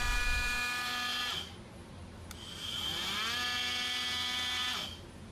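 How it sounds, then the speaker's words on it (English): A Ryobi oscillating multi-tool buzzes on a Kobalt 24V battery in two steady high-pitched runs, each several seconds long, with a brief drop in speed between them, close and with no speech. "This one is an oscillating tool."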